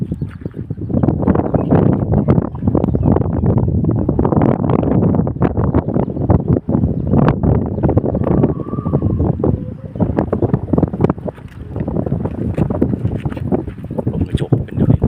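Gusty seaside wind at Laem Chabang while flying a 160 cm buffalo kite and chula kites, a loud continuous roar buffeting the microphone with rapid crackling gusts throughout.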